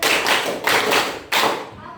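Elementary school pupils in a Medan classroom clap together in three separate loud bursts, each a quick run of hand claps with short pauses between.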